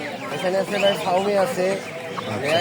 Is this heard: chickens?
yes